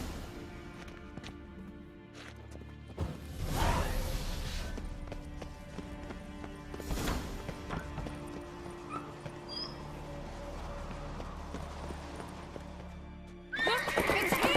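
Horses whinny loudly a couple of times over steady hoofbeats of galloping in The Witcher 3, with a rumbling game-like ambience and a final burst of noise at the end.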